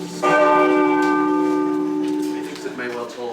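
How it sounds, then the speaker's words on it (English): A single church bell strikes once and tolls, loud and close, its ringing tone sustaining and slowly fading over a few seconds with faint voices at the end. "That is the bell tolling, yes."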